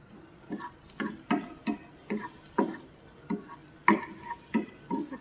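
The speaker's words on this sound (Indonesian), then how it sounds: "Kita tumis bawang bombaynya sampai harum ya bun." Onions sautéing in butter in a pan, a utensil stirring and scraping in short, irregular strokes over a low sizzle, close by and with no talking.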